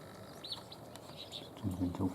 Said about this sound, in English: The long-tailed tit. It's nicely right in front of us.